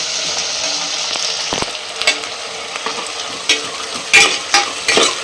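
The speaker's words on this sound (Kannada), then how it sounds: "ಈರುಳ್ಳಿನ ಚೆನ್ನಾಗಿ ಫ್ರೈ ಮಾಡ್ಕೊಳ್ಳೋಣ" Onions frying in a pan for pudina bath, a steady sizzle close by punctuated by several sharp clinks and scrapes of a spoon stirring against the pan, no voices.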